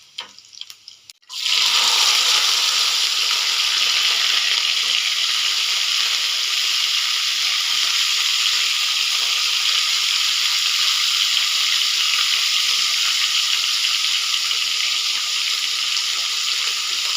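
Cauliflower tipped into a pan of browned garlic frying in oil for a cauliflower bhaji sets off a loud, steady sizzle that holds evenly for many seconds after a brief clatter at the start.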